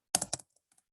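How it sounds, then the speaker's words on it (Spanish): Keys pressed on a computer keyboard, a short burst of three or four crisp, close clicks followed by a couple of faint light taps, with no talking. "cuando yo aplasto el teclado"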